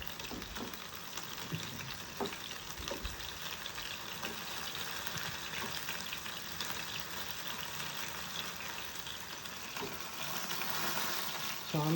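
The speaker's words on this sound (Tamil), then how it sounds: "எண்ணெய் தெரிக்குது." Hot oil splattering and sizzling as chicken fries in a pan at home, a steady crackling hiss throughout with occasional sharper pops.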